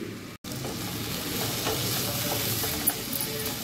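Masala paste sizzles and hisses steadily as it is stirred into mixed vegetables in a hot pan, a close, even frying crackle with no talk.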